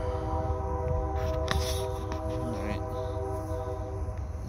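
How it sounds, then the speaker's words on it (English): A train rumbles past at a steady distance, a continuous low roar with faint tonal hum and some rattling. "Double dose of the train."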